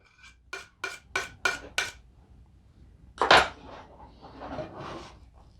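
A metal scraper drags pasta dough remnants off a fork in a home kitchen: five quick, evenly spaced scraping strokes, then a louder rasping scrape and softer scuffs, close and alone.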